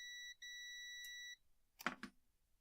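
An electronic device emits a steady, high two-tone beep that cuts out briefly, resumes, then stops, followed by a soft clatter of handling in a quiet room.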